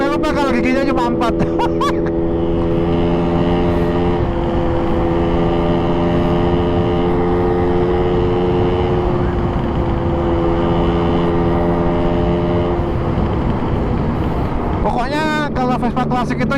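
Riding a rare 1962 Vespa VBB four-speed classic scooter, its engine hums in a steady, close drone with gentle pitch changes throughout, while the rider talks briefly at the beginning and again near the end.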